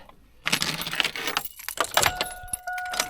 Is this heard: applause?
no